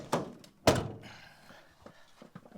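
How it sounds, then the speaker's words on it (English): The rear door of a VW Crafter van under conversion is shut with a loud, close thunk, followed by a second heavier slam and some faint handling sounds afterward. "Right, David, shut that door."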